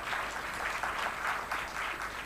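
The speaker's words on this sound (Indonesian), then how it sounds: "Jadi tolong tepuk tangan" An audience applauds Telkom at a ministry education event, a steady, dense wash of many hands clapping at moderate volume with no speech over it.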